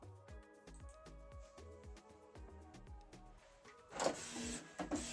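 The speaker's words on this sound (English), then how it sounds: "So the document is sent to the printer. It's printing it out." A Canon PIXMA G3410 inkjet printer printing a document: rhythmic mechanical whirring and stepping of the paper feed and print head, close and fairly quiet, ending in a louder rushing burst, with no talking.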